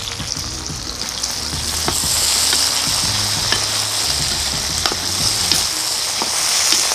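Curry leaves frying in hot oil for egg thokku, a continuous close sizzle with crackling pops and scraping stir strokes against the pan, no talk.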